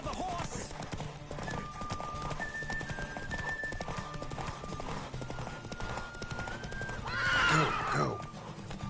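A horse in the video game The Witcher 3 gallops with steady clip-clop hoofbeats and lets out a loud neigh near the end, with a sustained musical tone and other game sounds underneath.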